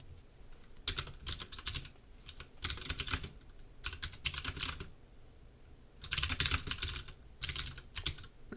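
Fast typing on a computer keyboard during a lecture on working over a remote terminal, quick bursts of key clatter separated by short pauses, close and clear with no speech.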